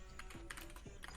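Quick, light keystrokes tapped on a computer keyboard while entering a command, a short uneven run of close, quiet clicks with no talk.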